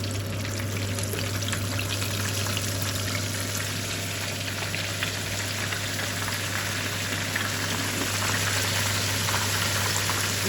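Vegetable-filled Chinese samosas fry in hot oil with a steady, dense crackling sizzle that stays loud and even throughout, with no talking over it.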